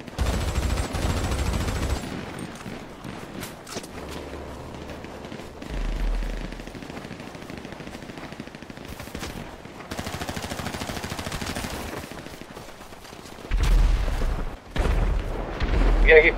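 Gunfire in the video game Marbella Vice 2 crackles in bursts over about sixteen seconds, with deep booming thumps near the start and end and voices talking over the action.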